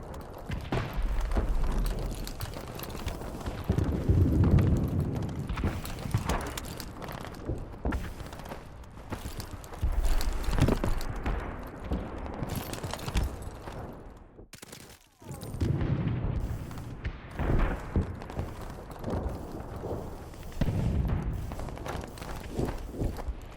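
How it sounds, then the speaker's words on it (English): Footsteps of bots carrying MP5s in Modern Warfare Remastered: quick, fairly faint steps patter through the gameplay, mixed with scattered gunfire and thumps over a busy background, with no talking. "the footsteps are definitely better than they were when the game first came out"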